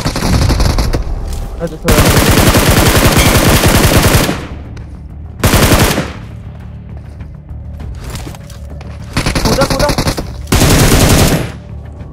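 Gunfire in BGMI: several loud bursts of rapid automatic fire, some lasting a few seconds, separated by quieter gaps, with a brief spoken word in between.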